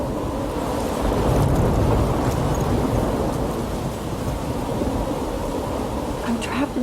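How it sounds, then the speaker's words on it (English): Thunderstorm with heavy rain in the video game Life Is Strange, a dense steady roar of rainfall and low rumbling thunder filling the scene without pause. "I'm trapped in a storm?"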